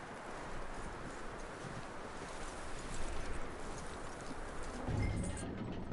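Horse hooves clip-clop steadily in Red Dead Redemption 2 against a dense, noisy game backdrop, the footfalls moderately close and continuous without speech.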